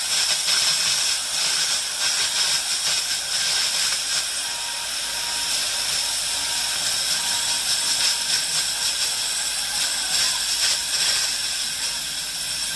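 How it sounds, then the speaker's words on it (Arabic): Steam hisses hard and steadily from the valve of a pressure cooker cooking trotters. The loud, continuous broadband rush stays close throughout with slight flutter. "كل ما تفتحي درجه البخار بيزيد اكتر لغايه ما نوصل للدرجه الاخرانيه خالص"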